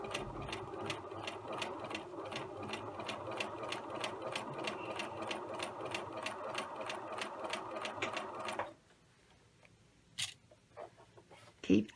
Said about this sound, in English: I'm going to go ahead and stitch on to my fabric, do a little back stitch